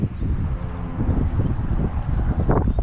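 Strong gusting wind buffets the microphone outdoors, about 10 to 15 mph with gusts near 20, while a drone is flown. The roar is steady and low, close and loud, and swells in a couple of rougher gusts.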